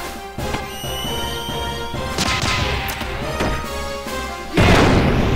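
Battle effects from Xenogears: a series of heavy impacts, booms and blasts as a character is kicked into the air and shot, punctuated hits over a ringing musical background, loudest near the end.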